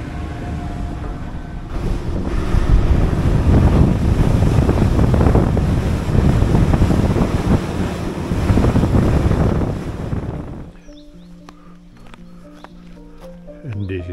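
Wind gusts across the microphone and waves wash against a ferry at sea, a loud, steady roar that cuts off near the end, leaving quieter tonal ship and background sounds.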